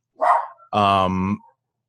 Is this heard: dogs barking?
yes